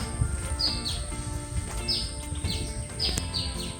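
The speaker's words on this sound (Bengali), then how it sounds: "পাখির আওয়াজ।" Birds call in a dense mangrove forest of golpata and gewa trees at Taki, repeated short chirps and whistles over a soft background of insects and wind.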